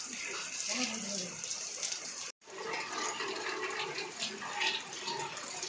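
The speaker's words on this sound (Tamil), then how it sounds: "தொட்டியில் தண்ணி நிரம்பி போகுது" Water rushes steadily into a tank during rain, a continuous splashing, gushing flow with a brief dropout midway, heard up close.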